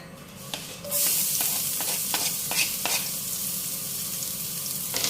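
Garlic and bay leaves frying in oil for beef kaldereta, a steady close sizzle with scattered stirring clicks and scrapes running throughout, no talking.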